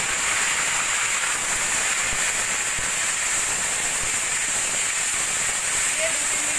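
Marinated chicken coated with salt, turmeric and lemon juice frying in hot oil, a steady loud sizzling hiss that runs without a break.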